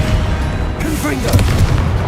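A Confringo fire spell bursting during combat in Hogwarts Legacy, a short boom followed by crackling debris over game ambience, with a voice nearby.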